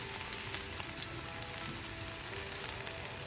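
Mushrooms, squash and zucchini sizzle steadily on a hot griddle, a dense, even hiss with faint crackles running throughout, close and alone with no voices.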